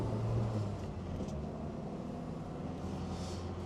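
Renault 16 TX with its 93 hp engine driving along, a steady low engine drone and road rumble heard from inside the cabin, constant and moderately quiet throughout.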